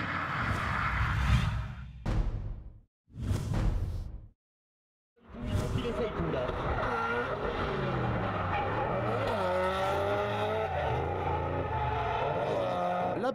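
Drift cars slide around the track at a round of the French Drift Championship in Bordeaux, 2013: loud engines rev and wail with rising and falling pitch and tyre noise, broken by short cuts to silence early on, then one continuous run.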